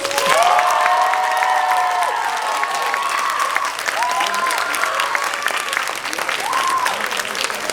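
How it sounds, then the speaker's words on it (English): Pageant audience applauding and cheering at the close of a show, loud sustained clapping with whoops and raised voices throughout. "Can we get another round of applause?"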